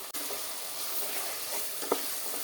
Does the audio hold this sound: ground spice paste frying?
yes